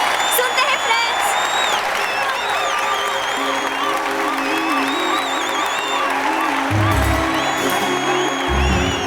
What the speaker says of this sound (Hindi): अरे तालियां क्यों नहीं बजा रहे?